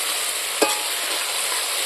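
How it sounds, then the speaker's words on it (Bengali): Cumin, ginger, pepper, bay leaf and onion pastes dropped into hot oil in a pan, a loud continuous sizzle with one brief splattering burst as they go in. "বাটা মশলাগুলো এখন আমি দিয়ে দেব।"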